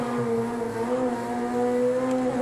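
Project Cars 2 racing game car engine running at sustained high revs, a loud, steady harmonic drone with slight pitch shifts and no voices.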